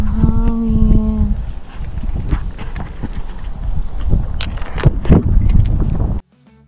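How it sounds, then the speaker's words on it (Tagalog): Heavy wind buffeting the microphone in a loud, continuous roar, with a brief animal-like call at the start and scattered knocks before it cuts off. "lakas ng hangin o. Lakas ng hangin."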